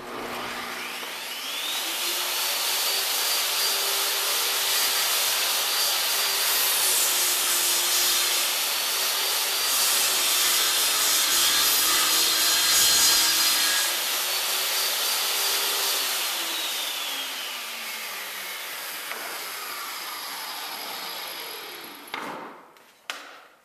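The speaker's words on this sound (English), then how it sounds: "To make the first shim, simply slide the board and jig together along the saw's fence." A table saw rips a tapered wooden hive shim as the board and taper jig slide along the fence, a loud sustained whining cut that rises, holds steady, then winds down with a few clunks at the end.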